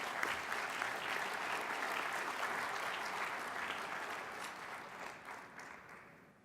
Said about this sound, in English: Let's give one more round of applause for Mayor Brainerd.